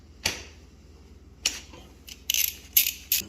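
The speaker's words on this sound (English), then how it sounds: "Using a 10mm socket and extension, go ahead and remove those nuts." A ratchet with a 10mm socket and extension loosens the sprocket nuts on a Honda CT125 Trail 125. Sharp, separate metallic clicks come close by, followed by a quick burst of ratcheting near the end.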